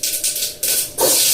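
Mustard seeds hit hot oil for a sambar tempering, giving a steady broad hiss and sizzle that swells in a few surges, close up with no talking.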